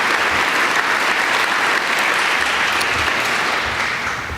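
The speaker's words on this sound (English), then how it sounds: "let's give Rick and George a round of applause" An indoor audience claps continuously at a county meeting, producing dense, even applause that stays loud and then eases slightly toward the end.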